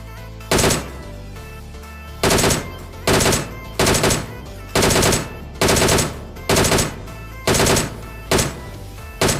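Bursts of automatic gunfire from a mobile battle royale shooter on a Samsung phone, about eight loud, close volleys of rapid shots spaced roughly a second apart, with no talk.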